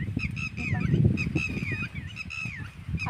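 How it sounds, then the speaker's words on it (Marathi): A flock of geese honking loudly and repeatedly in a muddy field, overlapping nasal calls close by in a busy, continuous chorus. "खूप पक्षी ओरडायले."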